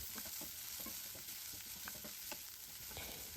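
Onions, ginger and garlic sizzle in oil in a pan for a Kerala-style chicken curry, a soft, continuous frying hiss broken by the light scrape and clack of stirring, with no talking.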